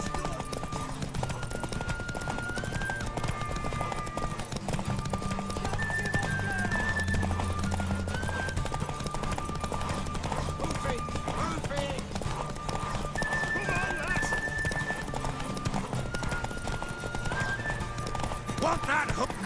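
Horse hooves clip-clopping with occasional whinnies in The Witcher 3 video game, under continuous game dialogue and ambient soundtrack, steady moderate-level trotting throughout.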